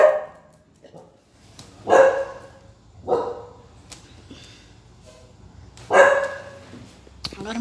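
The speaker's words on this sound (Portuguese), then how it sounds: "Agora meu cachorro vai vir latir aqui." A dog barking indoors: about four loud, separate barks spaced a second or two apart, close by, with a quiet low hum beneath.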